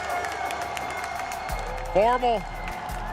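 Crowd cheers and applauds for Optic Gaming as they win a DreamHack Dallas Halo championship, a loud broad roar swelling under an excited commentator's voice.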